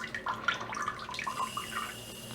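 Water spraying steadily from a Pikets Slim bidet attachment in wash mode, a continuous hissing splash with small fluctuations, fairly close and moderately loud, with no talking.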